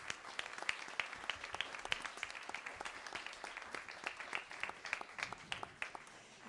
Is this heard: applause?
yes